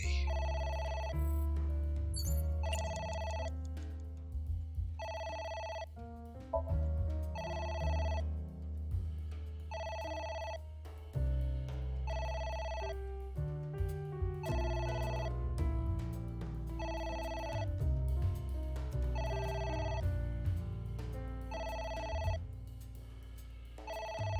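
A telephone rings incessantly in the video game AI: The Somnium Files, a repeating electronic ring pattern in regular bursts with brief gaps, sounding over a steady musical background throughout.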